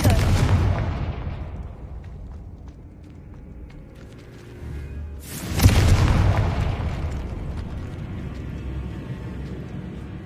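Confringo spell explosions in Hogwarts Legacy, a heavy boom with a long decaying rumble, then after a quieter stretch a second sharp blast that fades slowly.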